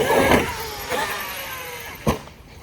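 A Traxxas X-Maxx RC car with aluminum arms drives by in a few quick electric whirring bursts that rise and fade, followed by a short sharp knock, all fairly faint with no voices.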